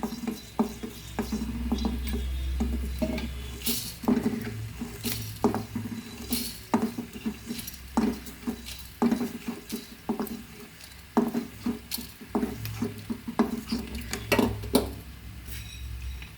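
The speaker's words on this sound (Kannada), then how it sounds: "ಧನಿಯಾ ಎರಡು ಚಮಚ ಹಾಕಿ ಹುರ್ಕೊಳ್ತಾ ಇದ್ದೀನಿ" Coriander seeds dry-roast in a pan, rattling and pattering continuously as a utensil scrapes and stirs them, with frequent sharp clinks of metal on metal close by.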